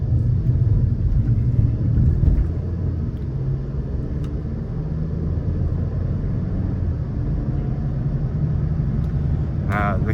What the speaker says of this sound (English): I mean, you get wind noises, you get noise from the engine.